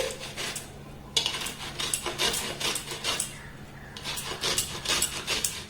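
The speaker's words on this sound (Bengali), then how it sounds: "তো গ্রেট করে নিলেই একটু বেশি সুবিধা হবে, তাই একটু আমি গ্রেট করে নিচ্ছি।" Raw green mango being grated by hand on a grater gives close rhythmic rasping scrapes in quick repeated strokes, pausing briefly near one second and again near four seconds.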